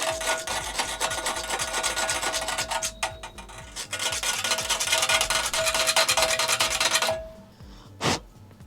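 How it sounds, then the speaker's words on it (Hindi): Rasping and rubbing as a metal file grinds down part of a Panasonic LED TV backlight strip, a steady close-up scraping that runs for about seven seconds, then a brief pause and one short final stroke. "इस वाले हिस्से को थोड़ा सा मैं घिस लूँगा दोस्तों।"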